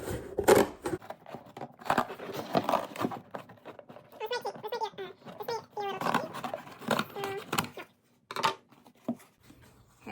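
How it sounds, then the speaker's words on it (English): Scissors cut the top flaps off a cardboard box in short crunching snips, heard in bursts between and under a person talking nearby. "we're going to cut the top flaps off of your box"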